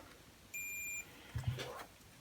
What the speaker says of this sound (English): We can test it just by doing a continuity test with a multimeter.